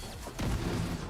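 A revive hive gadget detonating as a shock explosion in The Division 2 video game: a sudden loud boom that swells into a dense rumbling roar, close, with no talk.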